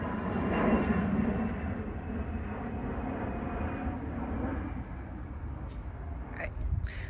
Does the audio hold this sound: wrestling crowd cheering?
no